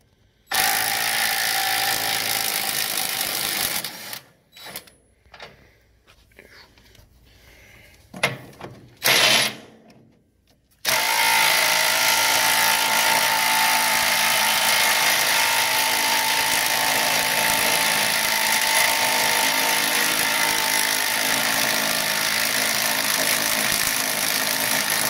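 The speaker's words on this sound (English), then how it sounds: "we can unbolt these from the transmission" A power tool whirs and ratchets while unbolting a transmission mount on a dune buggy, loud and steady, with a stretch of short stop-start bursts in the middle before a long continuous run.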